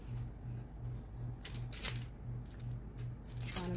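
A large resin-art sticker peels away in a few brief crackling rips against a steady, faint pulsing hum.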